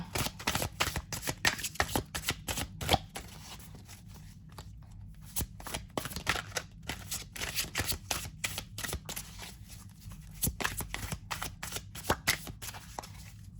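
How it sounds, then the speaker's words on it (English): Repeated crisp riffling and slapping of tarot cards being side-shuffled by hand, close up, in irregular bursts with short pauses. "the side shuffle gets a little difficult trying to keep your hand steady with all of them"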